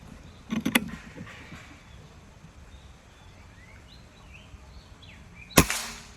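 A single sharp shot from a Strabig Goblin air rifle with a double-power plenum, fired outdoors at long range, cracks out loud and brief near the end, after some faint earlier clicks and light bird chatter in the background.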